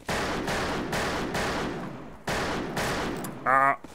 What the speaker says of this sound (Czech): když podržíme pravé tlačítko u myši, tak máme takhle tenhle klasický westernový typ střelby.